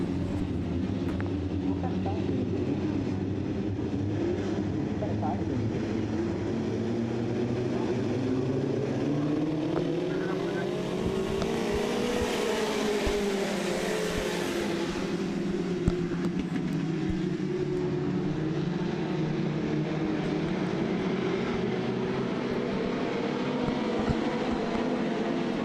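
Dirt track race cars running a heat race at Southern Ontario Motor Speedway, a continuous loud roar of multiple engines swelling and fading as the pack passes, with a voice faintly underneath.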